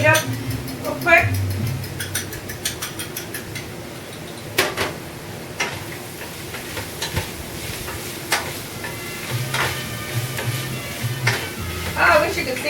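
Egg sizzling and frying in a pan with cactus and pork for nopales con carne, with stirring and clinks of a utensil against the pan, while a person talks over it.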